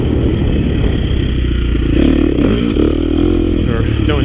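A KTM 350 XC-F four-stroke dirt bike ridden off-road, its engine droning loud and close throughout with shifting pitch and rev changes, plus some clatter and scraping.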